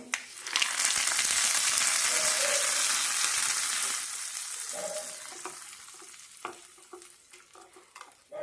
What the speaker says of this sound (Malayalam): കടുകും കറിവേപ്പിലയും ചേർത്ത് തളിച്ചിടാം